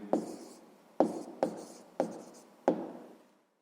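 A pen writes a math answer on paper in five short, distinct scratching strokes spaced roughly half a second to a second apart, close and quiet with no talk.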